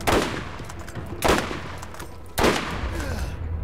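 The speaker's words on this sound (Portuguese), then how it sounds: "tem um cara atirando" Three loud bursts of enemy gunfire in the video game Borderlands, each a sharp blast about a second apart with a decaying rattle, over a steady background of game noise.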